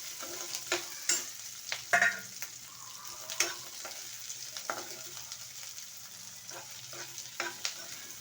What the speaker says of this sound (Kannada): ಆಮೇಲೆ ನಾನಿಲ್ಲಿ ಸ್ವಲ್ಪ ದಪ್ಪದಾಗಿ ಹೆಚ್ಚಿರೋ ಈರುಳ್ಳಿ ಇದ್ದೀನಿ ಇದನ್ನು ಸ್ವಲ್ಪ ಫ್ರೈ ಮಾಡ್ಕೊಳ್ಳಿ